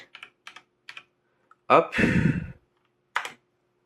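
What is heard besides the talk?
typing on Logitech G413 SE keyboard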